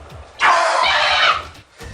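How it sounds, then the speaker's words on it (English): A frightened scream rings out, a single loud shriek lasting under a second, standing alone against near silence before and after. "There's no playing that scream off."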